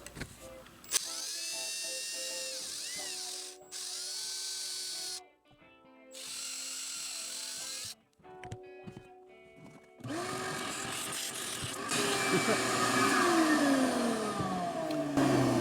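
Tapered bit turning in the wood of an electric violin, with close mechanical whirring in bursts separated by short pauses and a louder, rougher grinding stretch near the end.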